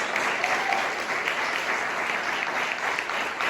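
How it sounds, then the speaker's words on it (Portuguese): A church congregation in Taubaté applauds Pastor Zelinda as she comes forward, a steady, even wash of clapping from many hands filling the room without pause. "uma salva de palmas."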